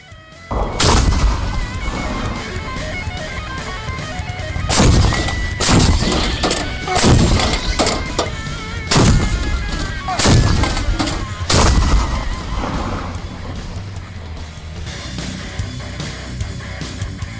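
An LG-1 105 mm light artillery cannon of the Indonesian Marine Corps firing in the field: a series of heavy booming blasts spaced a few seconds apart, loud and close, with rumbling echoes between shots.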